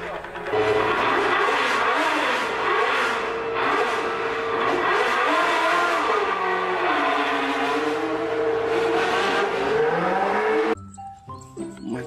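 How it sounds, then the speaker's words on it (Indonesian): A toy Formula One race car plays a loud, buzzing electronic engine sound with a wavering, revving pitch, running continuously before cutting off into faint clicks and handling noise. "ini mobil Formula One teman-teman"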